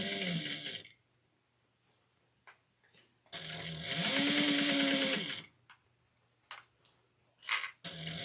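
A sewing machine stitches around fabric in short bursts, with one long steady run in the middle and brief taps and clicks between the stretches of sewing.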